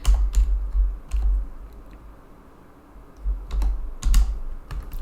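Keys clatter on a computer keyboard in short bursts of typing, clear and close, with a quiet pause in the middle and no talking.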